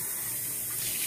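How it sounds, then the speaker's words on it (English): Tap water runs steadily into a sink as a pan is rinsed, a close, continuous hiss and splash with no voices. "Rinse it out."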